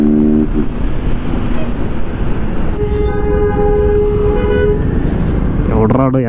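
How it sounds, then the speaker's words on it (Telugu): Vehicle horns toot repeatedly in evening rush-hour traffic on a Bengaluru flyover, sounding close behind a motorcycle over steady loud road and engine noise. "వెనకాల హార్న్."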